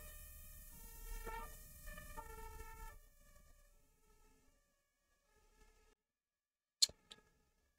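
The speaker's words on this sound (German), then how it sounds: "ein Rettungswagen fährt vorbei" An ambulance siren passes by, its wailing tone fairly clear at first and then fading away to silence, followed by a couple of brief sharp clicks.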